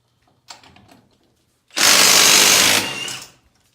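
A Milwaukee Fuel 3/8-inch stubby impact wrench breaks a fastener loose in reverse. A brief quiet whir comes first, then a loud, dense hammering burst lasting about a second, trailing off as the nut spins free.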